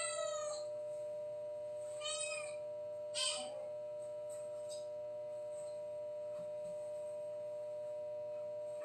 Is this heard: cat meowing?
yes